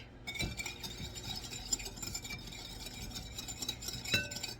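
A whisk stirs pepper and salt into a steak marinade in a bowl, giving faint, steady scraping and clinking with a few sharper taps against the bowl, near and quiet, with no talk.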